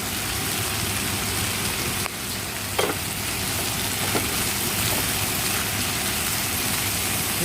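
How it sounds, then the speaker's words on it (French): Spätzle with crème fraîche stirred with a spatula in a hot pan, a continuous close sizzle with a few soft scrapes and taps, no talking. "Donc on va remuer."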